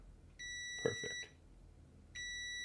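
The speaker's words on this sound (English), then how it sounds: "I need to actually put it in continuity mode for that to happen. So let's just get that beep showing." A multimeter in continuity mode gives two steady, high-pitched electronic beeps, the first lasting about a second and the second starting near the end, with a short clicking touch between them.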